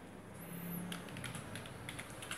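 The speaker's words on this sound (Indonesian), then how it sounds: "saya akan mengetik anime." Soft keystrokes typing a short word on a computer keyboard while entering text in slideshow editing software, a quick run of light taps near the mic over a steady low hum.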